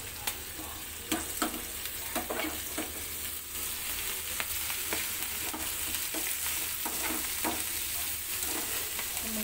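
Sweet corn deep frying in oil for a crispy corn chaat, giving a steady, dense crackling sizzle with scattered sharp clicks and pops, alone and close throughout.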